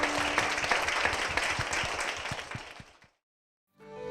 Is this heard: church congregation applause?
yes